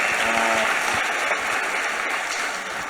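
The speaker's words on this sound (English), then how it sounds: "Let's give a round of applause," A live audience at a fireside chat gives a round of applause, a dense burst of many hands clapping at once that stays loud, then slowly eases off over a few seconds.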